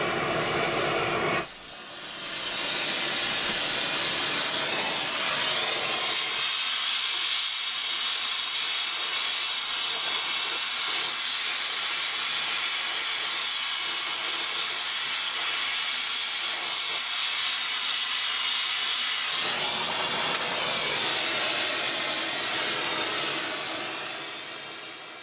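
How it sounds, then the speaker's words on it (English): Propane and oxy-propane torches roar in a continuous broad hiss while heating a copper boiler barrel for silver soldering, steady and close for most of the stretch, cutting in after a brief gap and tapering near the end. "I'm using a propane torch to get some background heat."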